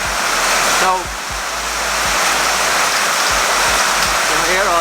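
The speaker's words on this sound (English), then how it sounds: "It's chucking it down with rain." Heavy rain pouring down outside a street food cafe in Padang, Indonesia, a loud steady rushing roar that fills the space, with a brief spoken word near the start.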